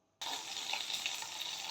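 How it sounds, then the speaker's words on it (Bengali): Fish rubbed with salt and turmeric hits hot oil after a brief silence, bursting into a dense, steady sizzle that stays close and even. "মাছটা সবার আগে আমি ভেজে নেব"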